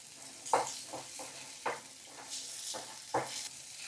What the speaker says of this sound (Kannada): ಚೆನ್ನಾಗಿ ಮೆಣಸಿಕಾಯಿ ಹುರಿರಿ